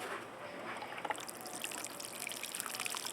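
Water trickles and pours into a potted plant's soil mixed with gypsum, a steady soft hiss of liquid with faint dribbling splashes, close by and quiet, with no talking.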